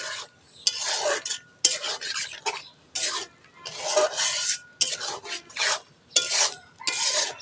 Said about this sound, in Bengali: মাংসটা দিয়ে আমরা সুন্দর করে কষাই নেব